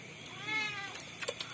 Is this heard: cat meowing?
yes